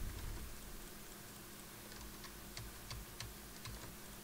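Faint keyboard keys pressed while working in Photoshop, a handful of soft, scattered clicks over low room hiss with no talking.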